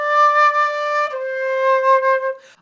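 A few sustained melodic notes open a song, sung or played as a clean tone, with a long first note leading into a second held note, loud and close with nothing else heard.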